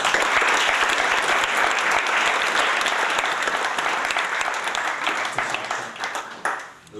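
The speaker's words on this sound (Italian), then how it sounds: "E quindi voi mi applaudite, ma io applaudo a voi e al vostro coraggio." An audience at a public meeting applauds loudly and continuously, dense clapping from many hands that stays strong for several seconds before thinning slightly near the end.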